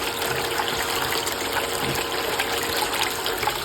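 Water runs steadily from a hose into a bucket during outdoor digging work, a continuous broadband trickling rush heard alone and close throughout.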